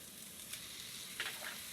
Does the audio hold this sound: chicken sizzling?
yes